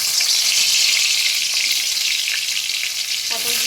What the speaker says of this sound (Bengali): এবার আমি পটলগুলোকে ভাজতে দেব।